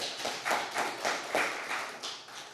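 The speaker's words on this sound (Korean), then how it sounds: "우리 한번 박수 한번 쳐줍시다." A church congregation claps together at a Sunday afternoon service, a run of rhythmic, fairly close claps in about six or seven pulsing bursts, with no talk over it.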